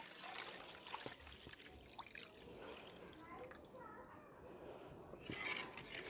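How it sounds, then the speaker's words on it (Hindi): Milk poured into a pan while making a village-style dhoda halwa, a steady liquid trickle and splash running for several seconds at moderate level, rising briefly near the end. "अब बाकी का दूध डाल लेना है।"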